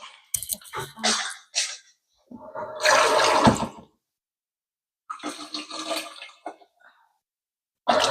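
Water running into a container while arranging pink lilies and yellow and orange roses, several short bursts of splashing and pouring separated by silences, close and fairly quiet.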